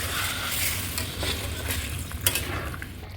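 Loud, steady sizzling of water hitting a pan of sautéed potato curry (niramish aloo dum), a dense broadband hiss with faint stirring scrapes, heard close with no talking.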